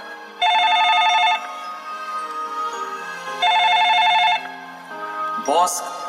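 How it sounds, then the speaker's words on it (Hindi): A telephone rings on stage during a school annual-function skit, two clear bursts of electronic trilling separated by a pause, followed by a brief sliding tone, with soft room noise between. "बॉस के समझाते हुए मिस्टर खन्ना का फोन बज उठता है"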